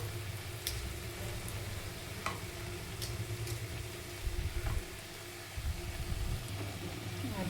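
Cauliflower sizzles faintly in a pan of vegetable curry while it is stirred, with soft frying noise and occasional clinks and scrapes of the spoon. The sound is quiet and close, with no talking.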